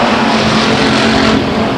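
A tight pack of stock race cars roars past at Stockton 99 Speedway, engines blending into a steady, loud, continuous drone that fills the whole moment without letup.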